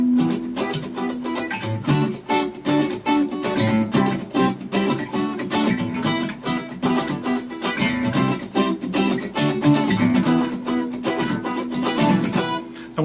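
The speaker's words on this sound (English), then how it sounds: "let's take a look at how this pattern will sound with the muting effects" Guitar plays a fast strumming pattern for a Hindi song, with dense percussive muted chops between chord strokes, close and loud, continuing steadily at full tempo.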